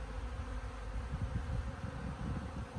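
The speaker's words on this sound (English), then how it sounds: "Bees know I'm here, so they're a little bit excited about that. That's why they're buzzing." Honeybees buzzing around a hive box in a bee yard, a dense, continuous low drone of many wings close by, steady and unbroken with slight swells.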